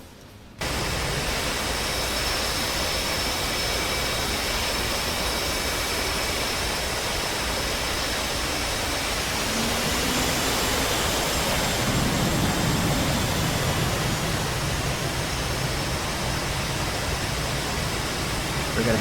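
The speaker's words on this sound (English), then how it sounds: "We're going to hang out and wait for takeoff from these F-18s." F-18 jets preparing for takeoff in the DCS World flight simulator give a loud, steady, rushing engine roar. It holds nearly unbroken for the whole stretch and swells slightly toward the end.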